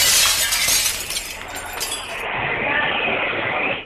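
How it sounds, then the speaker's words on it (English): Glass shop windows in a mall arcade shatter as a car smashes through. A loud, dense burst of breaking glass is followed by scattered tinkling and grinding of shards against metal for several seconds. "The windows broke, and the screeching sound of glass against metal echoed across the mall."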